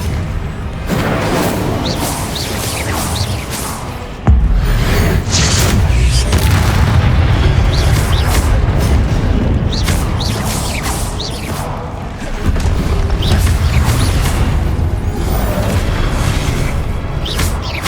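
Confringo blasting spells exploding in Hogwarts Legacy, mixed with other combat spells: repeated heavy booms and bursts with whooshing impacts, loud and close, rolling into one another almost without pause.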